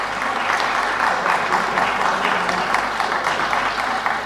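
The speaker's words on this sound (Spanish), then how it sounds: "Un fuerte aplauso para nuestros productores y un fuerte aplauso para nuestro Gobierno Central" Applause from an audience at a government announcement in the Casa Grande del Pueblo, a steady dense clapping that fills the whole stretch at close range with no pause.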